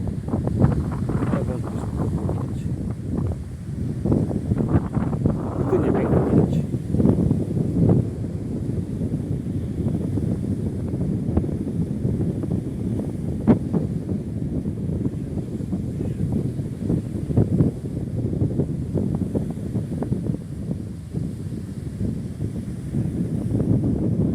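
Wind buffets a boat out at sea on the Baltic near Puck, heading toward the ORP Wicher wreck, a loud steady roar and rumble of gusts across the microphone, with a brief surge partway through.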